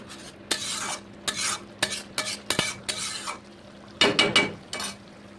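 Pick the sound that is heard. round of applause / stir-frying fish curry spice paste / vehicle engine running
stir-frying fish curry spice paste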